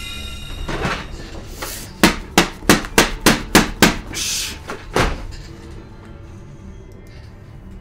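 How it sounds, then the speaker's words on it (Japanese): Hammer blows, about eight heavy, evenly spaced thuds in quick succession, loud and close, followed by a couple of scattered knocks before things go quiet. "ハンマー持ってこいよマジで"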